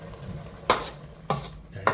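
Meat tipped into a pot of Durban curry and stirred, giving three evenly spaced scraping, clattering strokes against the pot over a soft sizzle, close up, with no talk.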